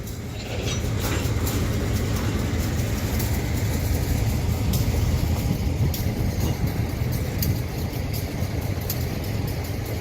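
A toy train running backwards gives a continuous rattling rumble that carries on steadily and close by for about ten seconds, with no talking.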